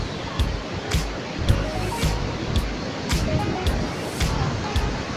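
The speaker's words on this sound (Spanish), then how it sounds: "las olas son bastante grandes" Large ocean waves break on the beach at Tenacatita, Mexico: a continuous rushing surf roar with repeated crashing swells, heard close and loud, with faint background voices.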